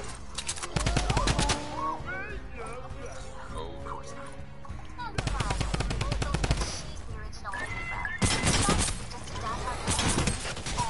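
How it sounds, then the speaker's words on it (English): Rapid video game gunfire in bursts during a duos match, crackling volleys under excited overlapping talk between players. "Well, you getting shot at, Real."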